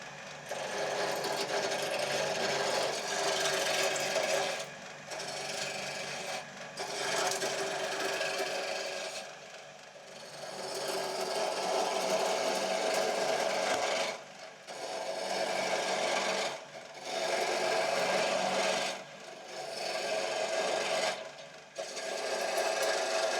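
A wood lathe turns a piece of timber with a continuous scraping, rasping cut and a motor hum underneath, broken by several short gaps as the tool lifts off the wood, close and fairly loud.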